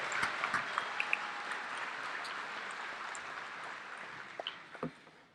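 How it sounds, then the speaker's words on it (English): Audience applause for new doctors at a medical school commencement ceremony, a steady broad wash of many hands clapping from a large crowd, sustained and fairly even, with a few sharper claps near the end and no talking. "can you applaud these young people,"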